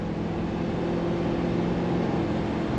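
A Ford 5.4 engine in a 2011 Pleasure Way Excel TS Class B camper van pulls uphill at half throttle, heard from inside as a steady, even drone and whir with no one talking.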